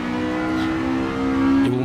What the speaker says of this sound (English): Make you appreciate how good V12s can sound.